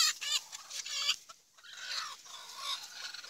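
A broody native desi hen sitting on eggs gives repeated close, throaty clucks and agitated squawks in short bursts, with a brief pause midway.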